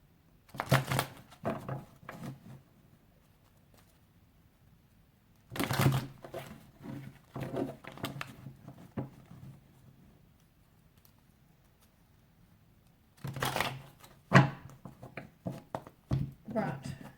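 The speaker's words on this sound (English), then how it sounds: "just want to give these a good shuffle." Tarot cards being shuffled in three bursts of rapid riffling, close and fairly loud, separated by quiet gaps.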